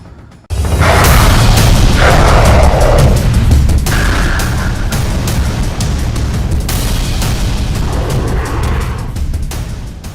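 A mine-clearing tank sets off a buried charge on a road: a sudden loud boom erupts and then rolls into a long, heavy rumble that slowly fades over several seconds.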